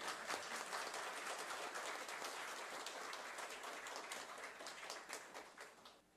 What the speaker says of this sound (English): You can clap the thing.